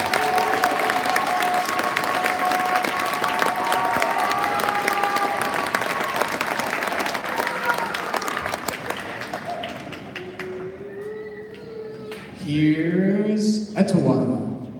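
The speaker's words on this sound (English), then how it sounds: "let's give applause to all of our 7th and 8th grade band students" Audience applause for 7th and 8th grade band students at a school spring band concert, a broad wash of clapping with tonal sounds and voices mixed in, fading toward the end as a voice speaks.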